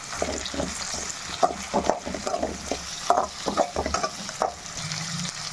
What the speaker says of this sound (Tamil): முருங்கைக்காய் சேர்த்துட்டு நல்லா ஒரு நிமிஷத்துக்கு நல்லா வதக்கிக்கணும்